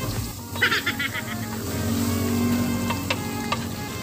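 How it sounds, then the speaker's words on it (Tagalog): Baby octopus frying in hot butter in a pan, a steady sizzle and crackle with some clattering stirring, heard under a person talking. "mainit na nga ang ating luluto na ating octopus. Maglagay na tayo ng butter."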